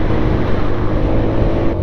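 A Genuine Buddy 125 scooter engine runs loud and steady at close range, a dense even drone with no talk over it.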